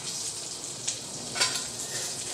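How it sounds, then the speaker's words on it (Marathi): Chopped green chili, chili powder, turmeric and garam masala frying in hot oil in a pan for chana masala. A steady close sizzle is broken by a couple of brief stirring scrapes. "मस्त असे परतून घ्यायची मिरची, ते मसाले परतून घ्यायचे"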